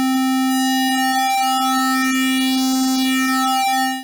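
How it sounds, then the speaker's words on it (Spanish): A steady synthesizer tone whose timbre shifts and warps as the wavetable position is swept, bright harmonics sweeping while the pitch stays fixed. "Con este slider podemos escuchar la tabla en sus distintas posiciones."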